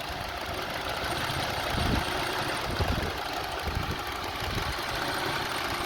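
A Honda CR-V engine shakes and idles unevenly with one ignition coil disconnected, giving a steady close rumble with slight surges and no talk.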